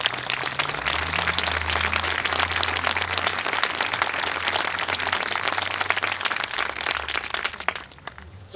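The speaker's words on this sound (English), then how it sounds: "Give them a round of applause." Audience applause at an outdoor memorial event honoring 9/11 responders: brisk, crackling clapping from a crowd, steady and fairly close for several seconds, then fading out near the end.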